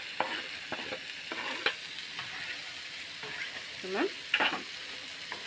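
A spoon scrapes and stirs onions frying in a pan, with a low steady sizzle under repeated distinct scraping strokes and a brief spoken word.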